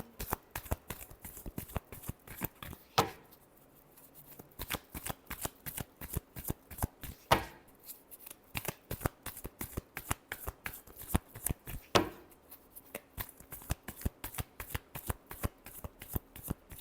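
Tarot cards are shuffled by hand in a long run of rapid crisp riffling flicks close by, broken by a few sharper card snaps, with no talking.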